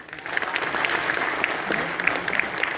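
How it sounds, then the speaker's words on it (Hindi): A live audience at a motivational business session claps loudly, a dense and steady wash of applause that fills the whole stretch without pause. "जोर से ताली बजाओ।"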